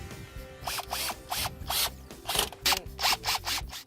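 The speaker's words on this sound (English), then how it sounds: "you just need to drill the fabric into the windshield channel" A power drill drives screws through Bestop Supertop NX fabric into the windshield channel of a Jeep TJ, in short, repeated whirring bursts with brief pauses between them, close and clear.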